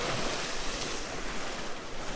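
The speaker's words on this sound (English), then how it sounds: "Massive wave coming up there." Ocean surf washes and breaks steadily on the beach at Overstrand, Norfolk, with wind buffeting the microphone and no voices.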